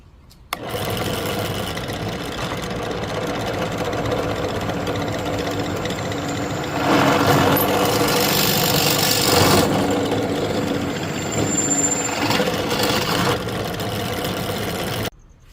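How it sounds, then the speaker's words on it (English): A power drill runs in a continuous whirring buzz for about fifteen seconds, growing louder and harsher in the middle as it bites into aluminum extrusion. "Let's go drill holes in these."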